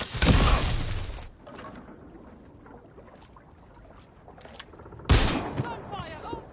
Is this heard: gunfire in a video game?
yes